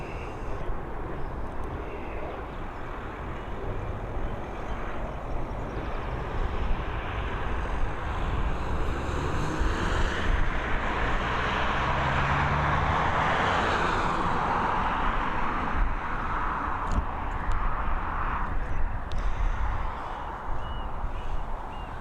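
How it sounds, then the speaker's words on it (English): A jet airplane takes off from the new north runway at Dublin Airport, its broad engine roar swelling from a distant rumble to a loud peak midway and then slowly fading, with wind buffeting the microphone. "They are departing us on the new north runway though"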